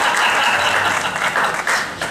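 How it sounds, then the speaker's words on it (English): An audience at a hall of fame induction ceremony claps for an honoree, a short, loud burst of dense applause that thins slightly toward the end. "Big round of applause, please, for Wesley Abraham also."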